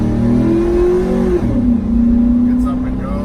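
A 2004 Chevrolet SSR truck accelerating, close engine revving with a rising, droning pitch that eases and climbs again over a few seconds, loud and steady.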